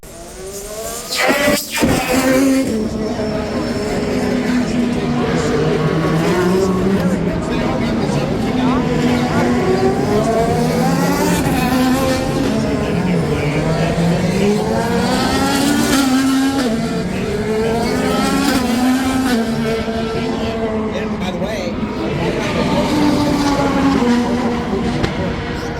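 Race cars at the Grand Prix of Arlington street race in Arlington, Texas roar steadily past, their engine pitch swelling and dipping through shifts, with a commentator talking continuously over the racket.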